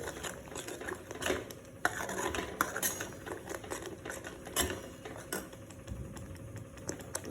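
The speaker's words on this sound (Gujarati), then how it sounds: "એને હલાવી લઉં છું" A spoon stirs spiced vegetable curry with dhokli in a cooking pot, giving a run of quick close metallic scrapes and clinks against the pot.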